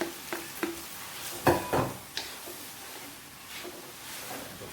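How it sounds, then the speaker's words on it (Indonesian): Vegetables stirred and frying in a wok for bihun goreng (fried rice vermicelli): a steady soft sizzle with a few louder scraping clatters from the utensil partway through, no talk. "aduk sampai semuanya layu"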